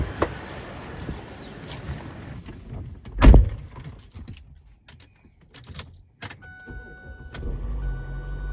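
A SsangYong Korando four-wheel drive car starts up and pulls away: a short loud burst of ignition, then clicks and shuffles, with a steady low engine drone settling in toward the end.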